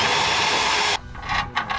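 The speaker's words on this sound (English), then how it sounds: "all we're gonna do is hit it with the step bit" A step drill bit bores through steel while a bumper goes onto a Jeep WJ Grand Cherokee, giving a loud, steady whine for about a second, then stopping; faint intermittent bursts follow.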